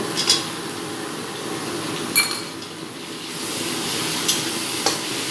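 Ginger garlic paste sizzles with softened onions in a pan for a meat curry, a steady close frying hiss with a few faint clinks of a spoon.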